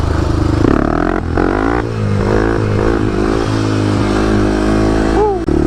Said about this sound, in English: Do a little wheelie here.